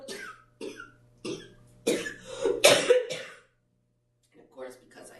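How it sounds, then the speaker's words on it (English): A few coughs and throat-clearing bursts come close together, followed by a pause and a short stretch of quiet talking. "So if I have a coughing fit, I apologize."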